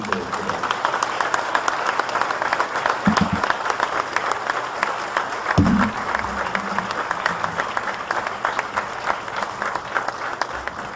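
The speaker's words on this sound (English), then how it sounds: "If you could give him a hand of applause" An audience at a Veterans Day ceremony at the Illinois Veterans Home claps steadily for a 100-year-old veteran, a dense wash of applause throughout with a couple of brief low thumps.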